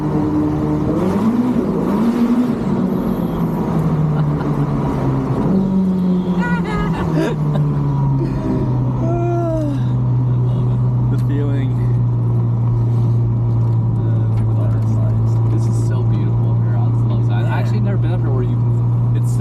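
A Ferrari SF90 driven through Zion National Park, its engine note rising and falling as it revs, then settling into a steady drone, with people talking over it in the cabin.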